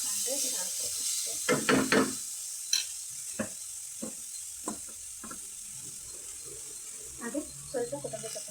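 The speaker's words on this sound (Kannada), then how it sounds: "ಇದು ಕೊಬ್ಬರಿ ತುರಿನ ಸ್ವಲ್ಪ ಬಿಸಿ ಮಾಡ್ಕೊಂಡ್ರೆ ಸಾಕು ಅಷ್ಟೇ." Grated coconut is stirred and gently warmed in a pan on a gas stove, giving close scraping spoon strokes in uneven bursts over a soft, steady sizzle.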